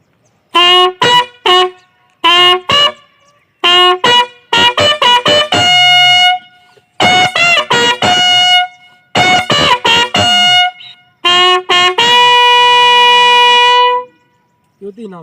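Army bugle playing the Inam call, a series of bright, loud brassy notes in short bursts and longer held tones, close and alone, ending on a sustained note.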